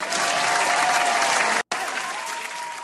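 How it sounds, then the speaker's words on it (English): Sustained applause from a crowd, dense and loud, clapping continuously with a brief cut before it carries on. "Applause to Paul Mooney's career and legacy."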